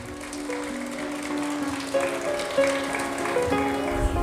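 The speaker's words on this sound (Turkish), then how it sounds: "Çocuk gelişimi ve eğitimi alan öğrencilerimizi alkışlarınızla sahneye davet ediyoruz" Audience applause at a vocational high school graduation ceremony as child development students are called to the stage, a steady wash of many hands clapping from a distance over a sustained tonal layer, likely music.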